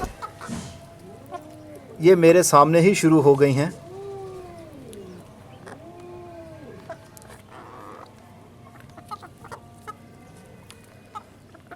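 Chickens cluck and squawk in a loud burst nearby, then quieter clucking continues with scattered calls, with a person talking throughout.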